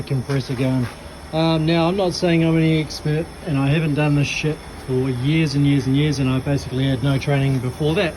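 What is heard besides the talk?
air compressor running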